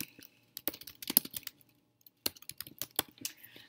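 Clattering keystrokes on a computer keyboard, typed in quick irregular bursts with short pauses between them, close and crisp.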